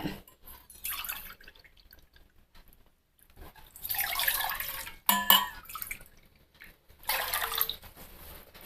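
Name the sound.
water poured into a pan to boil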